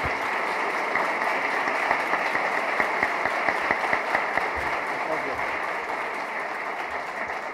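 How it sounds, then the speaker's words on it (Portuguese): Steady applause from an audience at a country club evening event welcoming professor Gustavo Franco, a dense, even wash of clapping sustained throughout, with some voices mixed in. "por favor, uma salva de palmas para o professor Gustavo."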